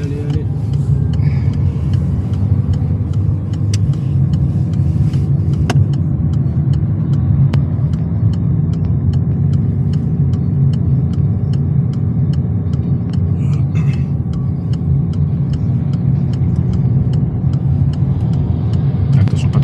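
A learner car driving and accelerating behind a truck at a roundabout during a French driving lesson, a loud steady engine rumble with road noise throughout, while an instructor talks over it.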